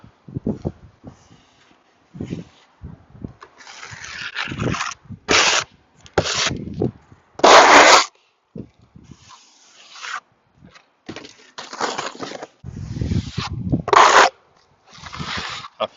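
Render being applied with a trowel to the rear wall of a garden office, built up thicker now: repeated rough scraping and rubbing strokes in uneven bursts, close and fairly loud, with short pauses between passes and no talk.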